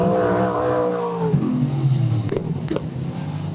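A race car on a time-trial lap at Cromwell Speedway, its engine roaring loud and close with strong rising harmonics before the pitch drops as it passes, followed by a steady lower drone and a couple of sharp bursts.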